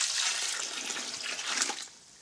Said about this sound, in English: and then you just add water.